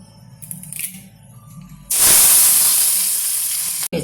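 Curry leaves dropped into hot oil with mustard seeds erupt into a loud, bright sizzle after quiet crackling, holding a steady hiss for about two seconds before cutting off.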